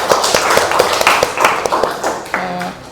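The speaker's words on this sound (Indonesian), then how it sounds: "beri tepuk tangan untuk kelompok 2" A small group claps for a student team during a classroom presentation session, a brief scatter of distinct close hand claps with uneven rhythm, joined near the end by a short tonal voice.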